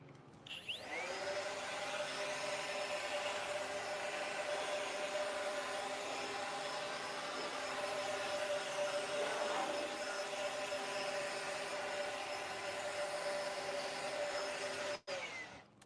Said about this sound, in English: I'm not using a really powerful blow dryer there.